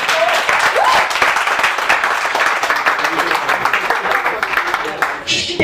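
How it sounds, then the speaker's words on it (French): A comedy club audience applauds with broad, dense clapping that fills the room and gradually thins out, while a performer's voice speaks over it near the end. "Ça s'applaudit, ça."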